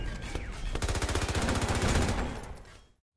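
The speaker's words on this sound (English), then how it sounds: "the turrets fire incredibly fast" Rapid automatic gunfire from turrets in the Armor Alley video game, a dense fast stream of sharp shots lasting nearly three seconds before cutting off, loud and alone.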